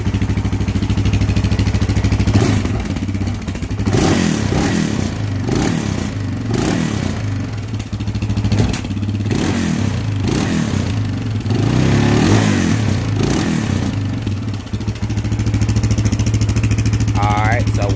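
Motorcycle on its original stock muffler, revved in a few short blips of throttle over a steady idle, close by and loud throughout, with a person talking over parts of it.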